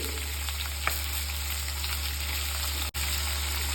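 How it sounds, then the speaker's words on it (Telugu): Thinly sliced onion and four green chillies fry in a pan with asafoetida for a drumstick leaf and sesame flour curry. A steady close sizzling hiss is broken by a faint clink and one brief dropout. "ఆ తర్వాత సన్నగా తరిగిన ఉల్లిపాయ వేసాను నాలుగు పచ్చిమిర్చి"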